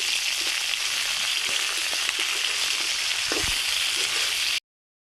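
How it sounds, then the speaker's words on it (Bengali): Broccoli frying in a hot wok for a village Ramadan meal, giving a steady bright sizzle with faint stirring scrapes and a few soft knocks, close and continuous, then ending abruptly. "এবার ব্রোকলি গুলো দিয়ে দিল কড়াইতে। এবার এগুলোকে কিছুক্ষণ নেড়ে নেবেন"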